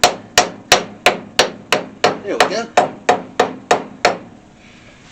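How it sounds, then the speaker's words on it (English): A framing hammer strikes about a dozen times in a steady, even rhythm, each blow a loud close metallic crack with a short ring, during brake work on a 1964 Ford Falcon. A brief spoken remark comes near the end. "I always use a framing hammer too."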